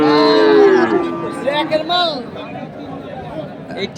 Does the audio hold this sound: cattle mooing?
yes